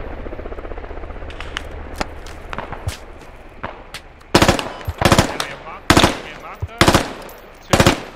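Machine gun fire in the military shooter game Squad: distant rattling bursts at first, then a series of loud, close, sharp short bursts spaced about a second apart.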